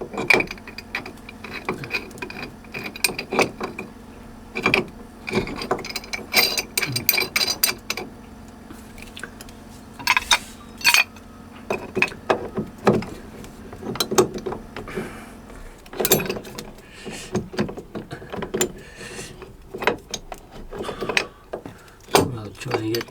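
Wrenches work the packing gland nut on a Catalina Capri 26 sailboat afloat, producing close, irregular metallic clanks, ratcheting clicks and scrapes in uneven bursts.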